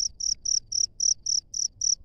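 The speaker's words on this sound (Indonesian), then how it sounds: "di sini jangkriknya bunyi lagi ya." A mlondon cricket chirps steadily and close by, in evenly spaced high trills repeating about four times a second over a quiet low background.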